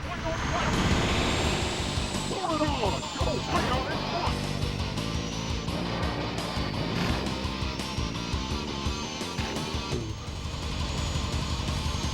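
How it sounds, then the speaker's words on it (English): Spaceship engines hitting boosts in a retro video game, rising whooshing swells and thrust roars layered with game sound effects, loud and continuous throughout. "the sound design too, of all the ships, the engines hitting the boosts"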